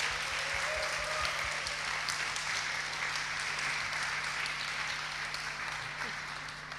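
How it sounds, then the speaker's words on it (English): A conference audience applauds its resource persons at the close of an open forum, a steady, even wash of clapping that fades slightly toward the end. "Let's all give our resource persons another round of applause."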